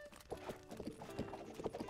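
Horse hooves clip-clopping along a road in Zelda: Breath of the Wild, a quiet, steady trotting rhythm with no other sound.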